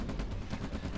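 Rapid flak cannon fire from mobile anti-aircraft units in the Red Alert strategy game, a dense continuous burst of booming, rattling shots that fills the whole moment at steady loudness, with no talking.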